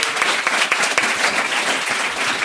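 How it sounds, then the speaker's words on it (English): A live audience claps loudly and continuously, a dense crackle of many hands close by, holding steady for the whole stretch with no talk over it. "Round of applause. Well done."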